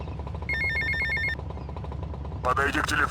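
A telephone rings in the game GTA Vice City as an electronic trill that lasts under a second. It sits over a busy game soundscape with a rumbling engine and street noise, and a burst of harsh noise follows it.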